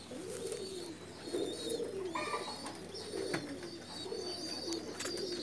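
Pakistani pigeons coo softly and repeatedly, low throaty calls rolling in a slow rhythm, with a few faint chirps and light background noise around them.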